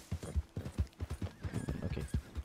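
Horse hooves clip-clop in the video game Red Dead Redemption 2, a close, steady rhythmic trot of distinct thuds running the whole time, with a faint tonal background underneath.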